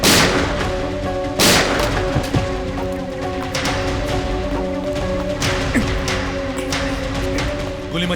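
Gunfire in a tense CID police drama standoff: several sharp, loud shots crack out at irregular intervals over a dramatic music bed, with a heavy blast near the start.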